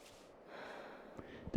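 A climbing character in the game Cairn breathes heavily, with a drawn-out exhale and then a quick, sharp gasping intake, close and fairly quiet.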